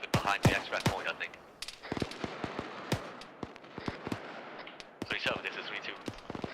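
Gunfire in the military video game Arma 3 crackles in scattered single shots and short bursts, some sharp and close, others more distant, with faint voices under it.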